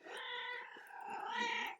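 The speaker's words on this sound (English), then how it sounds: "There's my cat chiming in." A cat gives a drawn-out, wavering meow, close and fairly quiet, about two seconds long in a quiet room.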